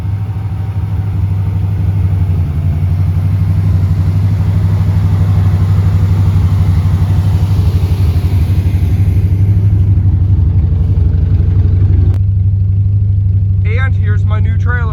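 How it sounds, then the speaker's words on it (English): Two trucks idle together nearby, a loud steady low engine rumble that runs throughout, with a person talking over it near the end. "Got both trucks firing right up."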